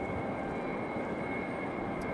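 A Lufthansa Airbus A330-300 jet arrives from Frankfurt. A faint, steady broadband rumble is heard at a distance with no clear change over the short stretch.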